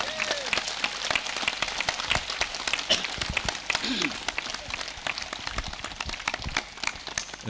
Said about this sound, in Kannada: ಜೋರಾಗಿ ಚಪ್ಪಾಳೆ for all the Buddhas.